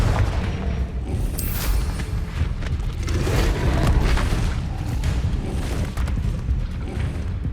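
In the video game Hogwarts Legacy, a Confringo blasting spell explodes with deep rumbling booms and crackling blasts that roll continuously amid other spell and combat noise, loud and full.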